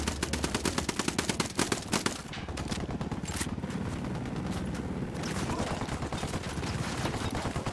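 Machine gun fire in the video game Ghost Recon Wildlands, long loud bursts of rapid automatic shots that run almost continuously, dense and close, with other gunfire layered in.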